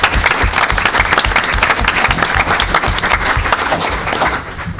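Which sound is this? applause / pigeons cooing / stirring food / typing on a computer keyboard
applause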